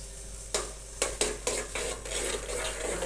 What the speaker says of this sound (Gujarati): હવે તપેલાને ગેસ ઉપર મૂકી દીધું છે ઘી બનવા માટે